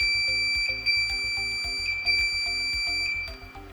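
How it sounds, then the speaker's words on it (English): A HILARIS FL RED/BLUE laser therapy device gives a steady, piercing electronic alarm beep, close and loud, repeating in a regular pattern as the laser shuts itself off, with no talking. "the laser switches off automatically and generates a triple beep tone"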